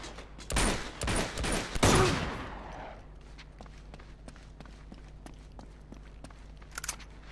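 A hand cannon fires in the video game Uncharted 2: Among Thieves, loud booming shots in quick succession over the first two seconds, then fading reverberation, scattered footsteps and a small burst near the end.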